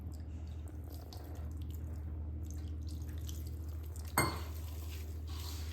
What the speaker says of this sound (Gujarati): ફરીથી પાણી થોડું એડ કરી લઈશું